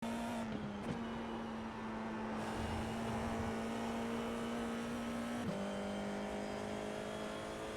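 FIA F4 single-seater race car at full throttle through a corner at Oulton Park, engine droning steadily and loudly with two brief dips in pitch around gear changes, heard alone without talk.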